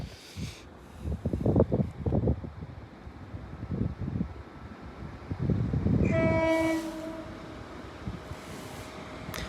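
A train rumbles past Dock Hills level crossing with low rolling clatter, then its horn sounds a sustained two-tone blast at close range.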